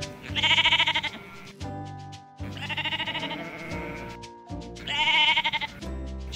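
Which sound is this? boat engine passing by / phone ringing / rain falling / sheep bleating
sheep bleating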